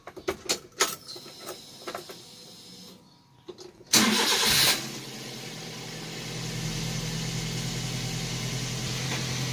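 A 2013 Daihatsu Gran Max 1.3 van engine, mounted under the floor, cranks after a few clicks, catches with a loud roar, then settles into a steady idle.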